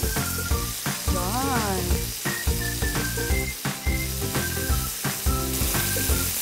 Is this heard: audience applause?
no